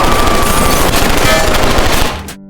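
A film shootout erupts in rapid, loud gunfire, a dense burst of overlapping shots that rattles on continuously before cutting off abruptly near the end.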